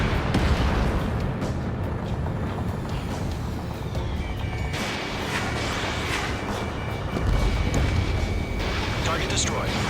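A missile fires from an F-15S/MTD fighter jet in the Ace Combat 7 video game, set in a dense, roaring rumble of engine and explosion noise that runs throughout, with radio voices talking over it.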